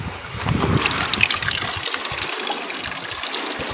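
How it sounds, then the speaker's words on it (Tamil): Water gushes from a terrace tap to water plants, a steady splashing stream with brief gurgles at the start, close and fairly loud, without talking. "ஸோ அதை நம்ம திறந்து விட்டு தண்ணி ஊற்றிடலாம்."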